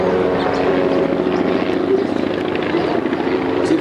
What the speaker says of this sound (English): Here comes the helicopters back.